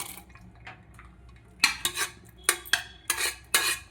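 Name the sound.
stirring boiled chana dal and sago in a pot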